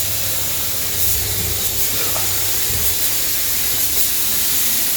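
A spray gun hisses steadily while laying a thin coat of paint on the body of a 1938 SS Jaguar 3½ litre drophead in cold conditions, a continuous close spray with a low hum underneath.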